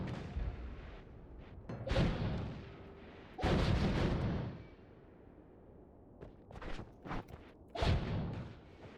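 A magic missile spell cast in a desert video game level fires in several booming, whooshing bursts spread across the stretch, with quieter rumbling between them.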